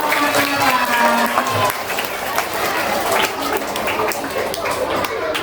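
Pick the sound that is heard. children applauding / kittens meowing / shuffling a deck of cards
children applauding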